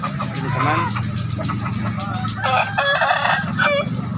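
A young Bangkok rooster crows loudly at a busy chicken market, its harsh, drawn-out calls rising over a constant din of other fowl clucking and honking nearby.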